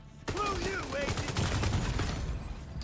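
Rapid bursts of gunfire from the player's weapon in a PvE shooter, loud and dense throughout, mixed with whooshing game effects and sounds of battle.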